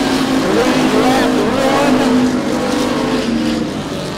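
Stock race cars at a dirt oval roar down the front straightaway, a dense, loud engine drone with revving swells that fades slightly at the end, while a commentator talks over it.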